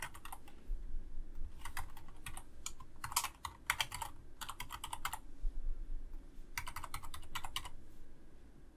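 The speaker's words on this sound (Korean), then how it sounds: "비밀번호를 입력해 주겠습니다." Keyboard typing while entering a username, email address and password into an app sign-up screen, irregular bursts of quick clacking keystrokes with short pauses, close-up over low background noise.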